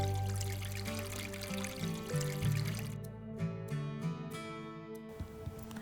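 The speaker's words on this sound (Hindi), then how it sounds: "स्टीम करने के लिए मैं कढ़ाई को आधा पानी से भर देती हूँ।" Water pours steadily into a kadhai (wok) to fill it halfway for steaming, a continuous gurgling stream close up that changes tone as the vessel fills, without any talk.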